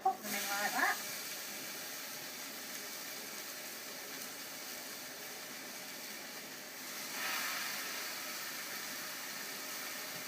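Steady soft hiss of kebabs sizzling in a frying pan, with a brief clatter at the start and a slight swell in the sizzle later.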